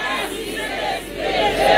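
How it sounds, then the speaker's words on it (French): A church congregation at a Sunday worship service shouts glory to God together, a loud unified crowd roar that dips briefly and then swells again. "Criez gloire à Dieu"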